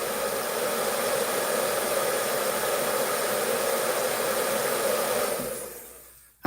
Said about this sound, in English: Hair dryer, I need you.